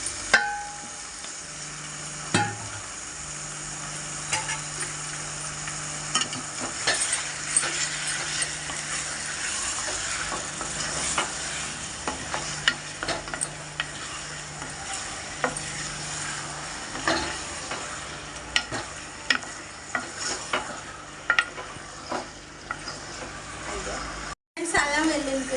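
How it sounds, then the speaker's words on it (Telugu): Half a kilo of chicken fried and stirred in a pan for a mango chicken curry: steady sizzling hiss with repeated scraping stir strokes across the whole stretch, fairly close. "chicken friends, 1/2 KG chicken friends వేసేస్తున్నా"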